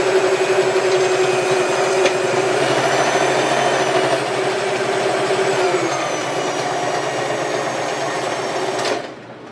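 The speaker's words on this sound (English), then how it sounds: "we're going to sew all along the edge here" A sewing machine runs steadily while stitching along the edge of a placemat being made into a bag, a close, continuous mechanical whir with a faint rhythmic hum that holds for about nine seconds before stopping abruptly.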